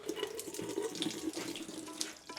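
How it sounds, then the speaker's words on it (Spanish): Spring water runs steadily from a tap in a forest home, a continuous splashing gush at moderate volume with no voices. "Y el agua que sale de aquí es agua de vertiente."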